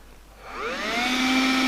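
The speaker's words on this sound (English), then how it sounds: "Karcher WV2 Plus window vac." A Karcher WV2 Plus handheld window vacuum starts up, its motor whine rising over about half a second to a steady, fairly loud tone that holds close by.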